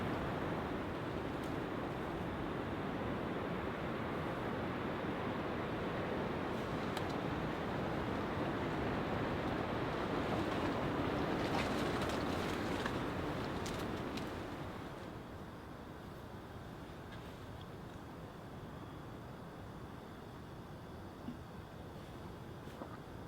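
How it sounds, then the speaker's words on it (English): Strong, steady wind roars through a winter campsite during heavy snow, a dense broadband rush that holds loud and level for about fourteen seconds, then eases to a lower but still constant blow, with no voices. "It's the wind."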